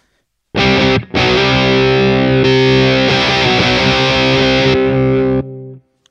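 A distorted electric guitar through a Tube Screamer overdrive pedal rings out sustained overdriven chords, loud and thick, with a brief break near the start before fading out.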